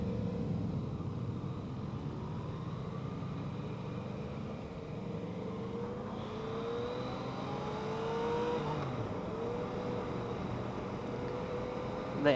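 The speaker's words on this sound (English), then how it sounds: "The engine sounds pretty nice." A Yamaha FZ-09 motorcycle engine revs steadily on the road, with the pitch rising and falling as it accelerates, heard continuously from the rider's position under wind noise.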